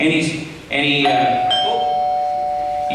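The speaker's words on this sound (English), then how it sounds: "You guys have a doorbell in your school?" A doorbell chimes with a ding-dong, two bright tones ringing out and sustaining, with a voice talking over the start.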